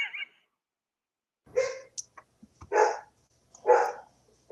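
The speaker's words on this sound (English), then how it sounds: "Doggy. I'm sorry." A dog barks indoors during a podcast recording, three separate barks spaced about a second apart with brief quieter noises between them and no talking over them.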